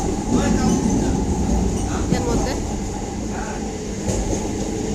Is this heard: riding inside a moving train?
yes